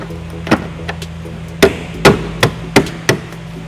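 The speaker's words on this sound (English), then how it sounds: "I'm just going to line up our body plugs and then just tap it in." Plastic body plugs are tapped into a Ford Escape tail light, producing about seven sharp, close knocks in an irregular rhythm over a faint steady hum.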